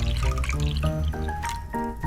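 Water poured in a miniature kitchen while making a small rainbow chocolate cake, a close trickling splash with bubbly, gurgling pitch rising as the vessel fills, over light background music.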